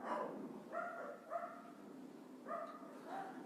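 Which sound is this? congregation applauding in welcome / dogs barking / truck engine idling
dogs barking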